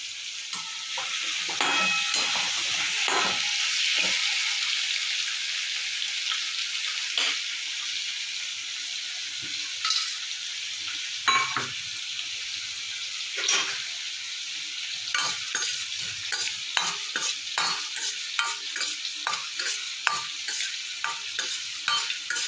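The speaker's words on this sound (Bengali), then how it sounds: "এদিকে আমি মশলাটা ভেজে নেব গোটা মশলা" Whole spices fry in a pan with a continuous close sizzle, while frequent scraping and clicking stir strokes grow denser toward the end.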